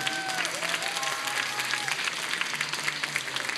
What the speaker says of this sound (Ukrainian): Ваши бурхливые оплески.